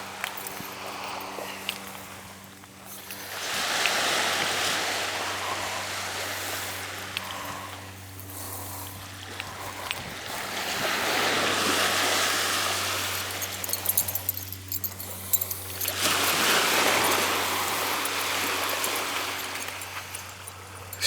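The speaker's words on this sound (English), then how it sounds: "that's the Dartmouth beach" Early-spring surf washes onto Dartmouth's Round Hill beach in slow swells, each wave building to a broad rushing roar and then fading. The swells repeat every several seconds under a low steady hum.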